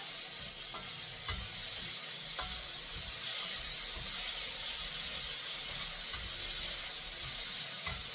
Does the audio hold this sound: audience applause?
no